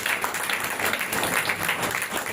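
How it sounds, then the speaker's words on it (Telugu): A church congregation at a gospel revival meeting claps hard and continuously, a dense close wash of many hands with no pauses. "ఒకసారి గట్టిగా చప్పట్లు వేసే."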